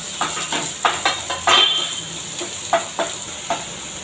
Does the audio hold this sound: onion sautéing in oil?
yes